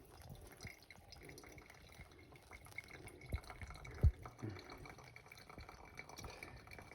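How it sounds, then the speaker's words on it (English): Water from a kettle pours onto instant Costa coffee in a cup, a faint trickling, dripping and frothing with one brief louder clunk midway, quiet and close over a low background. "Maybe pouring a little bit too fast there to get the maximum froth."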